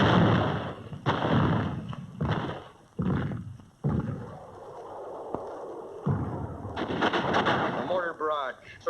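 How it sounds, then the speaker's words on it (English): A WW2 mortar and artillery barrage on Iwo Jima: a series of heavy, booming blasts and thuds at irregular intervals, loud and close, with battlefield noise and a crackle toward the end. "The mortar barrage searches out hidden machine gun nests."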